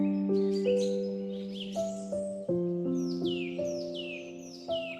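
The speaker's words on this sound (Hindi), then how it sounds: "चलते चलते पंछियों की आवाज भी कान पे आ रही है" Birds chirp and trill in a calm, meditative setting, short bright calls recurring over a soft sustained tonal backdrop with gentle changing notes, moderately loud and unhurried.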